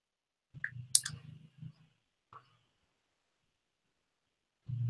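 Computer mouse clicks while selecting a view filter in patient data management software, with a few quick, quiet taps close by in a small burst, then a lone click and another faint sound after a pause.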